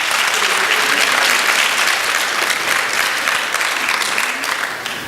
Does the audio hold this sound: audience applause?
yes